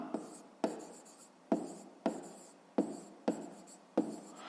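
A pen scratches across paper during a fifth-grade maths exercise, with about eight short, soft strokes in a steady rhythm, heard close and quiet.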